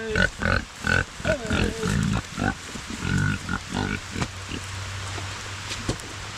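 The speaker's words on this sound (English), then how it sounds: "Yeah, we got milk. We got milk pigs." Pigs drinking milk give a series of short, rhythmic grunts and snorts close by, coming in quick bursts before settling into a quieter low hum.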